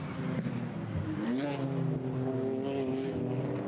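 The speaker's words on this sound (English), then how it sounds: "the BMW on its first proper flying lap of the session here" A BMW GT4 race car at Imola in European GT4 qualifying, its engine note rising through the gears on a flying lap, steady and fairly loud, with a faint commentary voice underneath.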